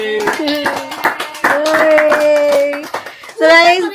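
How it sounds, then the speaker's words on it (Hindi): Family members at a home birthday surprise for a 13-year-old girl clap in rhythm close by while voices sing along, the claps falling in quick regular beats under the singing. "भाई ताली तो बजाओ"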